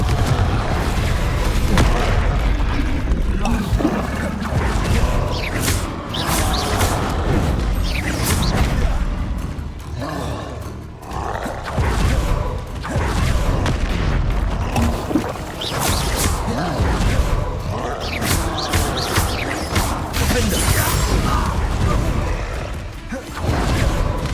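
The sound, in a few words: Confringo explosive spells in Hogwarts Legacy video game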